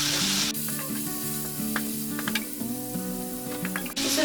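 Beef with ginger sizzles steadily in a hot pan while being stirred, with scraping and clinks from the utensil against the pan over the continuous frying hiss.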